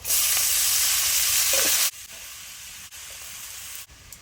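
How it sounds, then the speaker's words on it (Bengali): Red amaranth greens being stir-fried with small shrimp in a pan, a loud hissing sizzle for about two seconds that drops to a quieter frying crackle with occasional stirring scrapes. "মাছগুলো কষানো শেষে এবার শাক দিয়ে নেব"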